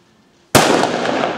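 A firecracker goes off at a Sant Joan night festival in El Pla del Penedès: one sudden, very loud close bang after near silence, followed by a dense crackling rush of burning and popping that keeps going to the end.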